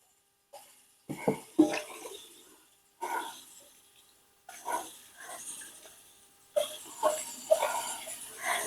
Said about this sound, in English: I will clean that one as well, the pot, while it's soaking.